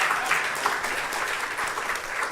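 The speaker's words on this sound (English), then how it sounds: "let's clap for ourselves" Self-congratulatory applause from a research panel and audience at a global health event, a steady dense patter of hands clapping, moderately loud and unbroken for a couple of seconds.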